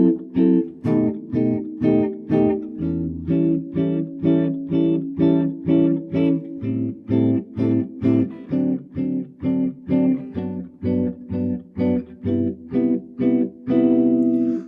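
A guitar comps jazz chords through the changes of a standard in a steady rhythmic pattern of short, evenly spaced chord stabs with clear, ringing voicings, played alone.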